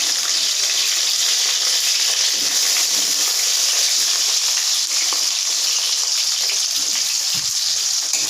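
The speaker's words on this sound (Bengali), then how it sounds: "লাল লাল করে ভাজবো আলুটা" Potatoes frying in hot oil in a pan, giving a steady, close, continuous sizzle with a bright hiss that holds evenly throughout, no talking over it.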